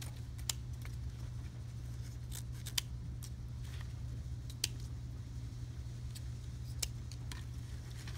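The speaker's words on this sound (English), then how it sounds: "Take our scissors, make those pretty V-cuts." Scissors snipping ribbon into V-cuts for a fall pumpkin decoration: several quick, sharp, close snips spaced irregularly over a faint steady hum, with no talking.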